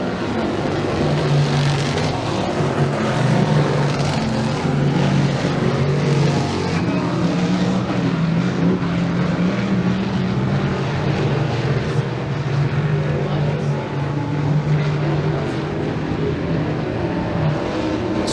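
Race cars roaring around the track at Genesee Speedway, a steady loud engine drone from a pack of cars with no break, heard up close and alone.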